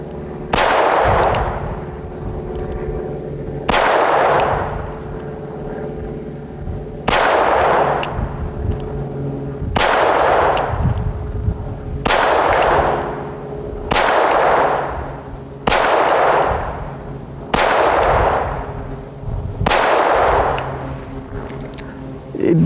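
A Taurus TX22 Compact .22 pistol fires eight loud, close shots at a slow, steady pace a few seconds apart, each crack ringing out briefly over a constant low background rumble.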